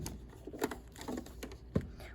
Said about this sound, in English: Typing this into our calculator